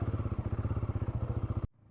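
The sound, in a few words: Royal Enfield Guerrilla 450 motorcycle engine starting off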